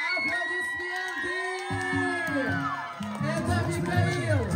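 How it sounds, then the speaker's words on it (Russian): A crowd at a holiday resort event cheers and whoops after a marriage proposal, excited shouts and children's cries rising and overlapping, loud and close, with music-like tones running underneath. "Друзья, аплодисменты!"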